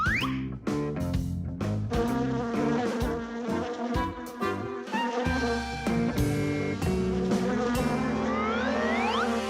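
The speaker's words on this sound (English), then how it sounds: "Here, little bee. Fly this way." A cartoon bee buzzes in a continuous, wavering drone that sweeps up and down in pitch, layered over busy animated-series music and effects, loud and close.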